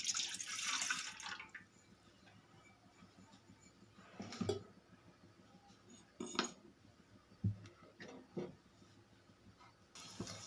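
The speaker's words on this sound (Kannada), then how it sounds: "ಗ್ಯಾಸ್ ಆನ್ ಮಾಡಿ ಪಾತ್ರೆ ಇಟ್ಟು ಇಷ್ಟು ಇಟ್ಟು ಒಂದು ಲೋಟದಷ್ಟು ನೀರು ಹಾಕುತ್ತೇನೆ" A glassful of water poured into a pan set on a gas stove for jowar roti dough, a brief faint splash at the start followed by sparse, quiet clinks of utensils.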